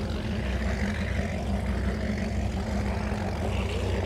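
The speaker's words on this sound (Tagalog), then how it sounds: "ito pa yung isang boat na maingay. Pang karera yata yan eh, boat na yan." Steady loud engine drone from a noisy racing boat passing on the water, a continuous low rumble with no breaks throughout.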